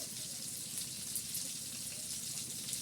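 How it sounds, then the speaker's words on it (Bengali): Boiled water, just taken off the stove, pours through a strainer in a soft, steady trickling rush, faint and close. "চুলাটা অফ করে দিয়ে পানিটা নামিয়ে ছেঁকে নিচ্ছি আমি।"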